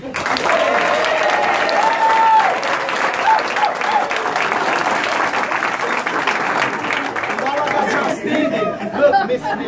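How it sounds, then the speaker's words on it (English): A standing ovation for Miss Ann at a motivational talk, steady applause from a large crowd mixed with lively chatter and voices throughout. "give her a round of applause"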